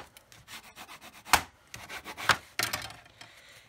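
Folded paper on a card folio is burnished down with a tool, giving soft repeated rubbing strokes close up with a few sharper scrapes, no talking.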